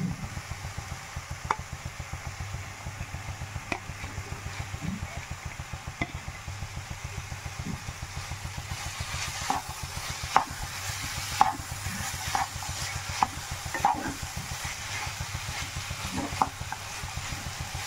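Carrot halwa cooking in a pan after mawa is added, giving a steady low sizzle with repeated scraping stir strokes throughout, a few sharper clicks of the spoon against the pan near the end.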